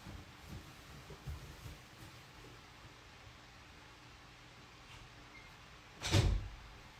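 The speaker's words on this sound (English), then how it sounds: "Let me go shut my door real quick." A single sharp thud near the end, like a door shutting, follows quiet room noise and a few faint knocks.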